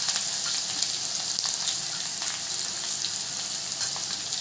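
Crushed garlic frying in a pan of oil while cooking parwal sabzi, a steady dense sizzle and crackle holding even and close throughout with no talk.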